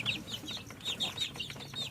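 Bangkok chickens on a farm clucking and chirping, with repeated short calls over a steady low background hum.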